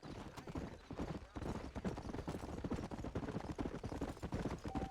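Horse hooves clip-clopping in a fast rhythmic gallop while riding in Red Dead Redemption, steady and close, with a voice talking over it.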